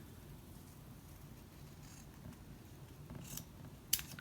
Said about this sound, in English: That one was easy to cut. Cut that one, and then cut the shape.